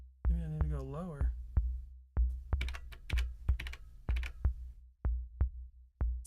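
An Elektron Analog Four mk1 synthesizer patch pulses like a heartbeat: sharp, close low thumps recur at a slow, uneven rhythm, with a brief warbling pitched tone near the start and some bright clicky bursts between beats.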